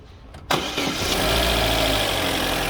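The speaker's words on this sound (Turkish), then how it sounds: "Evet marşa bas." An Opel Astra J 1.6 petrol engine cranks briefly and catches, then settles into a steady idle close to the microphone, with no talking.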